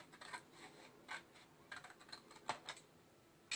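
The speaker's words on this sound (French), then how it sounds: "je vais venir couper mes angles" Scissors snip the corners off a paper scrapbooking notepad, giving soft, faint, close cuts in irregular short bursts with quiet pauses between.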